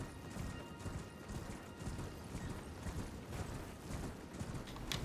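A horse gallops in Elden Ring, a quiet, steady clip-clop of hooves with a continuous rumble, fairly faint and without talk.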